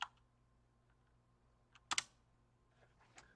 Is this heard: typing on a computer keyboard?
yes